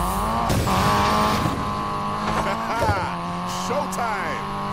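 A Nissan Silvia drifts in Need for Speed Payback, its engine note rising and falling in steady harmonic sweeps while the revs shift, with a voice talking over the car throughout.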